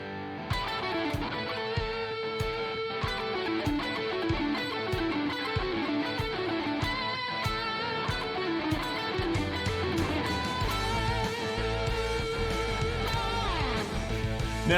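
Electric guitar plays a pentatonic lick over a steady backing track, with notes gliding across a rhythmic drum-and-bass pattern at an even, continuous level throughout.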